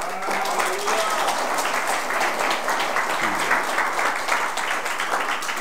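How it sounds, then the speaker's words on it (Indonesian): An audience breaks into sustained applause, dense even clapping from a large crowd that fills the hall at a steady, loud level from start to finish. "Beri tepuk tangan dulu."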